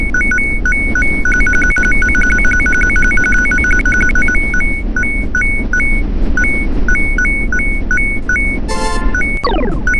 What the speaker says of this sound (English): This is bad item sound.